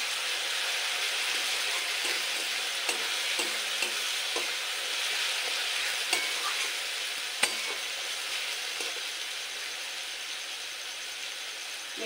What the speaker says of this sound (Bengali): তো রসুনটা কিছুক্ষণ কষিয়ে নেব।